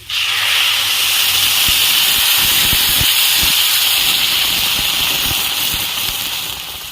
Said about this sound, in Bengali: পরিমাণ মতন গরম জল দিয়ে দিচ্ছি